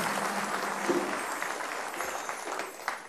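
An audience applauding at a stand-up comedy show for a Metro TV anniversary; moderately loud, continuous crowd clapping for about three seconds, slightly uneven toward the end.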